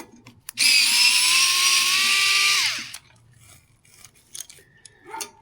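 A power tool loosens bolts on an H7 Pro electric vehicle in one loud, close, whirring burst of about two seconds that winds down, framed by quieter clicks and handling noises.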